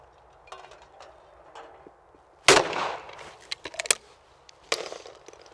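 A shotgun fired at a clay rabbit target on an outdoor range, one sharp loud blast echoing away, followed by a few fainter clicks and knocks against quiet background.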